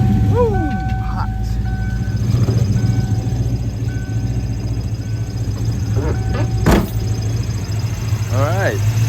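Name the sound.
1995 Ford Mustang GT engine starting and running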